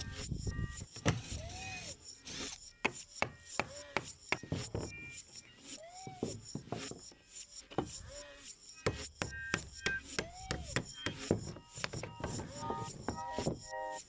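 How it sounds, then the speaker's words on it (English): Screws being driven out of a wooden tabletop with a power drill: repeated short whirring bursts with rising pitch, separated by brief pauses and small clicks and rubs, close and fairly quiet. "let's get all the screws out of here."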